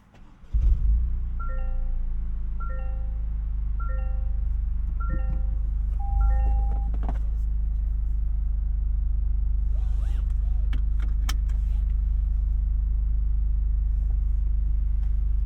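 A 2025 Toyota GR Corolla starts up, with a short series of chimes followed by the engine catching and settling into a steady, close idle rumble.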